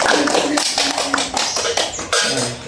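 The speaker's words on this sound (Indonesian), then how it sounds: "Beri tepuk tangan buat" A classroom of students clapping for the teacher, a dense, steady patter of many hands close by, continuing evenly for a few seconds with no talk over it.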